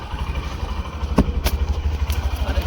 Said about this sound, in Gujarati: તો ચલો આપણે બાઈક ઉપર સવારી કરી લઈએ.